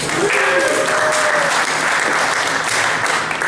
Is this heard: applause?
yes